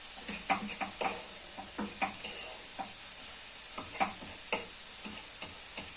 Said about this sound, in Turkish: Yumurtayı direkt attığınız gibi karıştırın.